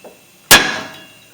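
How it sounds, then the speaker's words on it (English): A hammer smacks the lower ball joint on a 2008 Chevy Silverado 1500 4X4 to separate it: one sharp, loud metallic strike that rings and fades out over about a second, with no talking. "I'm just taking a hammer. I'm going to smack it right here."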